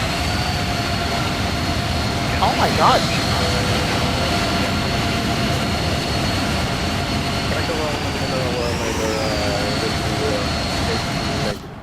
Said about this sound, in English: I don't remember the APU on this airplane being so loud.